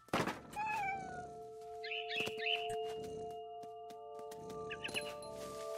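A cat meows several times in the video game What Remains of Edith Finch, fairly faint cries rising and falling among soft bird-like chirps and light knocks, with no talking.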